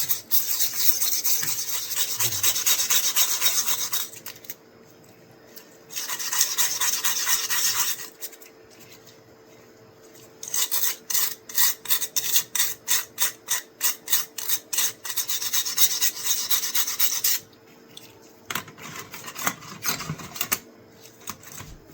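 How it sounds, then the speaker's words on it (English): A wire brush scrubs heavy rust off a 1950s Imperial knife blade in a close, loud, raspy rubbing sound. Long continuous bursts come first, then a run of quick, rhythmic back-and-forth strokes with short pauses between them. "I'm just gonna rub it with a wire brush to get the heavy stuff off."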